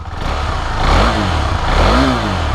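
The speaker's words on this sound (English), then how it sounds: "So this is how the engine sounds like. Sounds like quite a premium motorcycle." A premium sport motorcycle with ride-by-wire throttle revs twice from idle, each rise and fall of the throbbing exhaust note loud and close, with a steady engine rumble underneath and no talk.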